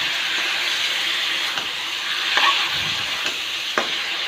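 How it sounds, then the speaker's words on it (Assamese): Marinated meat fries in a pan with a steady loud sizzle, broken by occasional scraping knocks as it is stirred. "ইয়াত মেৰিনেট কৰি থোৱা মাংসখিনি দি দিছোঁ।"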